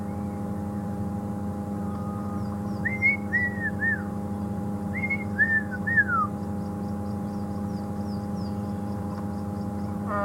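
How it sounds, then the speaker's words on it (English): A black-crowned tchagra gives wavering, slurred whistles in two short bursts, each a run of three or four descending notes, over a constant low mechanical drone with faint high chirps from other birds. "that's the black-crowned checker, the one that sounds like someone who's had a little bit too much to drink and is trying to hold a tune"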